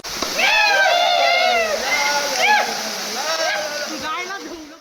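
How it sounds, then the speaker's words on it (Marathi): Tilari waterfall in Kolhapur, a perennial fall, roars steadily in the background in summer while a person talks loudly over it in close, continuous speech. "भर उन्हाळ्यात पण बघा धबधबा कसा चालू आहे"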